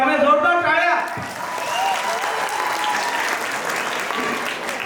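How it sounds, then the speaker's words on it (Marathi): Applause from an audience at a dance academy show, loud and sustained clapping, with a voice speaking over the opening second before the clapping fills the rest. "त्यामुळे जोरदार टाळ्या"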